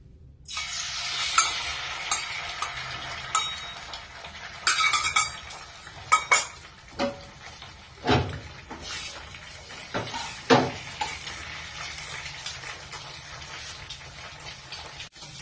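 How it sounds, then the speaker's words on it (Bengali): Beaten egg with a little salt fries in a kadai, a soft sizzle running under repeated metal spatula scrapes and sharp clinks against the pan, some louder than others. "ফেটিয়ে আমি এটা কড়াতে ভেজে নেব।"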